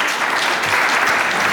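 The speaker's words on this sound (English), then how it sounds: "A round of applause." Steady audience applause at a teaching conference session, dense even clapping throughout at a constant level with no voices over it.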